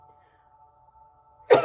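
A single sharp sneeze comes in abruptly and close at the very end, after a long quiet stretch with only a faint steady hum.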